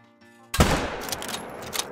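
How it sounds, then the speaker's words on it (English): Single 7mm rifle shot at a mountain lion in the hunting game Call of the Wild, a sudden loud crack after near silence, followed by a sustained rolling echo that fades over the next second. "The sound of that new 7mm is pretty sweet"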